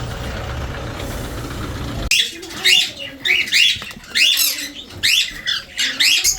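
Pet cockatiels let out a run of shrill, rising squawks and chirps close by, repeating in quick bursts after a brief stretch of low background rumble.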